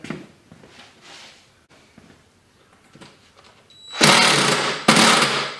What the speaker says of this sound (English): bringing these self-tapping screws back up out of that steel